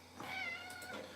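A single short cat meow, faint and close, rising and falling over a quiet room hum during a computer live stream.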